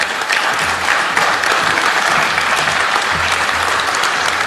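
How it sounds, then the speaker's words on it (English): A large audience at a Pride event in Millville claps in a steady, dense wash of applause that stays loud for the whole stretch with no pause. "let's kick off tonight's event with a great round of applause for Colleen"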